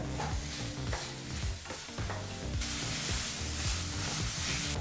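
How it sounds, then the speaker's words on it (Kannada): Chopped capsicum fries over a medium flame for masala rice, its hiss steady under repeated scraping stirs of the pan, with a tonal background bed running throughout and no voices. "ಈ ಕ್ಯಾಪ್ಸಿಕಮನ್ನು ಎರಡರಿಂದ ಮೂರು ನಿಮಿಷ ಮೀಡಿಯಂ ಫ್ಲೇಮಲ್ಲೇ ಫ್ರೈ ಮಾಡ್ಕೋಬೇಕಾಗತ್ತೆ"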